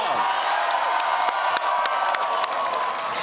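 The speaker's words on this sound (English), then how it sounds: "Give yourselves a round of applause." Crowd at a college football GameDay broadcast before a Tennessee vs. Oklahoma game cheering and applauding, a dense continuous roar with scattered whoops and shouts, fairly distant and steady.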